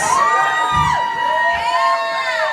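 Comedy club audience cheering and whooping, a loud, close wash of shouting voices with high whistles and yells sustained through the whole stretch.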